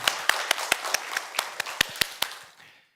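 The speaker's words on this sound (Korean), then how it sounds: "하나님께 영광의 박수 올려드리겠습니다" A church congregation claps together after a Korean sermon, sharp uneven hand claps ringing out across the room for a few seconds before fading away, with no talk over them.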